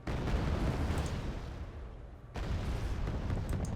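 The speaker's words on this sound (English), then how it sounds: "Recoilless rifles away." Recoilless rifles fire in the Wargame: Red Dragon Second Korean War campaign, giving deep, rumbling booms. A sustained roar fades, then a fresh blast hits near the end, with no talk over it.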